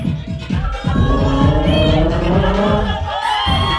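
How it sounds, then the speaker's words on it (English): Crowd cheering and applause at a runway show, a dense, steady roar of voices and clapping filling the whole moment, with shouts rising above it. "give her a round of applause"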